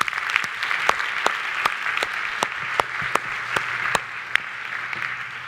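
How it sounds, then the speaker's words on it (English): A live audience gives a round of applause for volunteers, a dense steady patter of many hands clapping with a few sharper individual claps standing out, continuing evenly throughout. "I think we should give them a round of applause."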